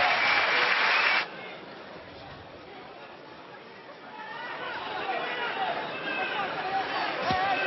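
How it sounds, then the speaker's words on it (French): Crowd applause at a football stadium in Le Pontet for a Marseille player against Villarreal, loud at first then dropping to a distant crowd murmur, with a commentator talking over it. "Les applaudissements du Pontet pour Dimitri Payet."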